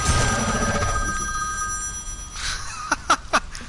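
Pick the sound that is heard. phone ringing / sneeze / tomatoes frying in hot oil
phone ringing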